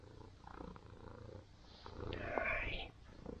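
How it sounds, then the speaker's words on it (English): A friendly cat purrs steadily up close in Cahersiveen, Ireland, a low rumbling hum that swells louder for a moment before easing off, with faint room noise around it. "Oh, big purrs and everything."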